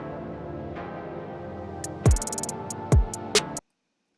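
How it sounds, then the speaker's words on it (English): A synthesized bell sound from the Nexus plugin plays as a sustained tone, then strikes in a few sharp, bright hits with ringing decay before cutting abruptly to silence. "a bell sound"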